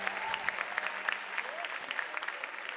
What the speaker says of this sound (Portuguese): E aplauda Ele bem forte